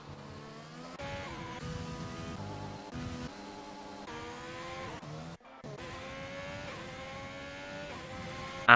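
A Ferrari Formula 1 car in a classic F1 racing game at the Japan circuit, its engine whining through gear changes with rising and falling pitch, loud and continuous, with a brief drop-out partway through.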